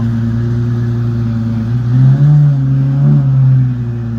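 McLaren 750S roadster with titanium exhaust, a loud, close, deep engine drone that swells into a couple of brief revs before settling back to a steady rumble.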